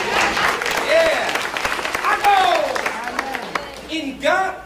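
A small audience at a Buffalo showcase claps briefly while voices cheer and call out over the applause, with a speaking voice continuing through the noise.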